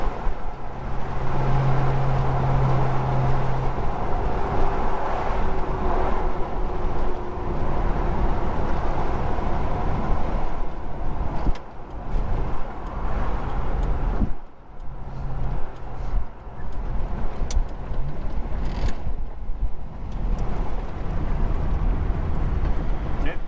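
Holden HK car rolling at low speed through a town's main street, a steady engine hum and road rumble heard from inside, fairly loud and continuous with brief dips.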